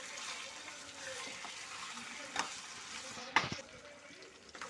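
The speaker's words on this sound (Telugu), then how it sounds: "నూనెలో వేసి మొత్తం ఫ్రై చేద్దామండి" Chicken frying in oil in a home kitchen, a steady low sizzle running throughout with a couple of brief stirring clatters and knocks, close and fairly quiet.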